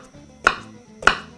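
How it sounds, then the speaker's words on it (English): A knife chopping onion on a cutting board for fried rice, two distinct sharp thuds about half a second apart, close and clear, no voices. "chopping up your onion"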